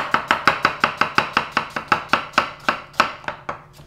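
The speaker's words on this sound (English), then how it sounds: "We're going to start with a little Spanish yellow onion. We're going to do a nice fine julienne on that." Knife slicing Spanish yellow onion into fine julienne on a cutting board, a rapid regular series of crisp chops, about five per second, close and loud, slowing slightly near the end, with no talking.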